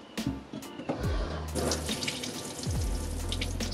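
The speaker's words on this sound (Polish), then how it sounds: "Kranik." Water runs from the kitchen sink tap in a campervan, a steady splashing stream into the basin with a few clunks and knocks of handling around it, close and fairly loud, with no talking.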